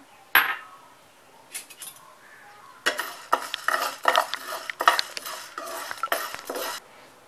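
Chana dal being dry roasted in a pan, heard as scattered scraping and rattling strokes of a utensil against the pan, sparse at first and then quicker and busier, close and fairly quiet.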